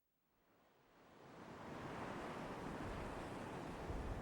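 Ocean waves washing in at Rehoboth Beach, a broad hiss of surf that builds from quiet to a steady, fairly distant wash, with no voices.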